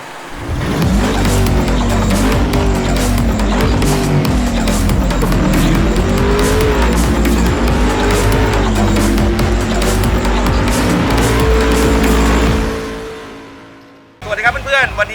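An Isuzu D-Max diesel engine revs repeatedly through an electric throttle rev lock, loud rising and falling surges that settle into a held high rev before cutting off abruptly near the end, followed by a brief faint sound.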